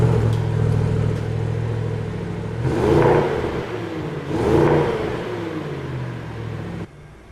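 A 2023 Audi S8 long-wheelbase with quad exhaust pulls away, its engine humming steadily and swelling in two revving surges before settling, heard from inside at moderate loudness with no talking.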